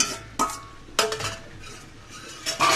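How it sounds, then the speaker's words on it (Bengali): Fried bitter gourd and boiled potatoes are stirred in a pan, giving a few sharp metallic clinks and scrapes of a utensil against the pan, spaced apart with quieter gaps, close by and with no speech. "দিয়ে সুন্দর করে আলুর সাথে নেড়ে চেড়ে মিশিয়ে দিব"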